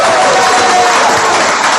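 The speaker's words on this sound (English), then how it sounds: "keep doing that thing that you just did, which is clapping and cheering" An audience claps and cheers in a loud, steady, close wash of applause and crowd noise that holds at a constant level throughout.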